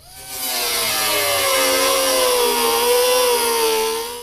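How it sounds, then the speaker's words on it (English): A power tool, likely a saw, cuts steadily through a composite skid plate on a 2022 Toyota Tundra, its high whining tone slightly rising and falling as it works, loud and close for about four seconds with no talking. "So we'll just need to cut that a little bit to get access to that"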